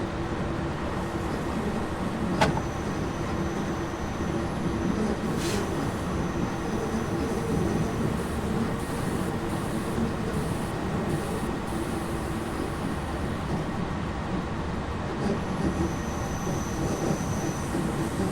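An SNCF CC 40100 locomotive hauls a train from Dunkerque to Lille, a steady, loud rumble of running wheels and rail noise throughout with faint high squeals and one sharp clank near the start.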